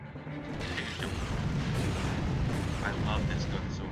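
A weapon fires repeatedly in the video game Ratchet and Clank: Going Commando, heavy booming blasts rolling together continuously with a player's voice talking over the action.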